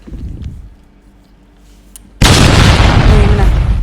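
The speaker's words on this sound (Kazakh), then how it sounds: "Көрүңөр, жардырган эффект болуп калды." A stock "Big Boom Explosion" sound effect from a video editing app: after a few quiet seconds with faint sound, a sudden loud blast erupts and roars on to the end.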